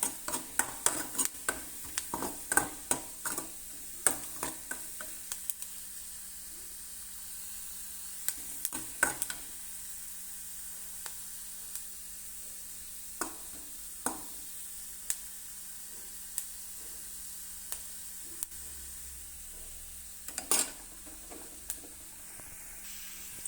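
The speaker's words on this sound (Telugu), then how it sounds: "అల్లం ముక్కలు అయితే వేగిపోయినాయి" Ginger pieces frying in a pan for ginger chutney give a low steady sizzle, broken by scattered crackles and the scrape and clink of stirring, with no talking.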